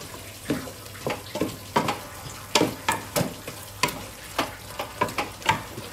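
Salt-and-lime marinated chicken frying in a pan, with loud sizzling broken by a steady rhythm of sharp scraping stirs, close and without talk.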